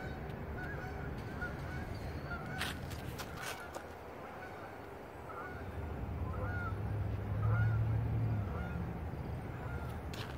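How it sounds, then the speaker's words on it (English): Geese honk repeatedly in the distance, a scattered series of calls over a steady outdoor rumble that swells partway through. "There are the geese singing."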